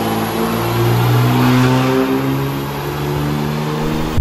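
A Cummins 6.7 diesel truck with a VGT turbo, stock injectors and a tune, revs steadily on a dyno, a loud continuous engine drone with rising whine, alone without talk.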